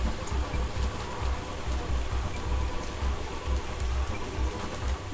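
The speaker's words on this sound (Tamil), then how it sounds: "அது வரைக்கும் அப்படியே நல்லா வேக விடுங்க எண்ணெயிலேயே." Rava and potato balls deep-frying in hot oil give a steady, dense sizzle with fine crackling, continuous and close throughout.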